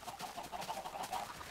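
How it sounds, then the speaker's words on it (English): Minecraft chickens clucking continuously in a steady run of short, repeated clucks, fairly close with no voice over them. "Those fucking chickens, man, they're driving me insane."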